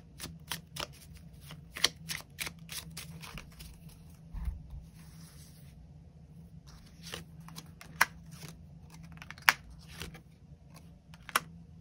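Tarot cards being shuffled in quiet, soft papery riffles and sharp snaps in irregular bursts, close and fairly faint, with no voices.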